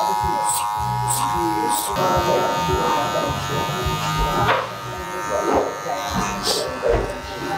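Electric hair clippers buzz steadily and close up during a fade haircut on Asian hair, working a 1.5 guard into a 2, with the hum pulsing as the blades move through hair and voices talking over it.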